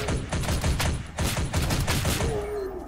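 Sustained light machine gun fire in the shooter Hyperviolent, loud rapid bursts with brief pauses, fading near the end as a faint tone rises, no talk.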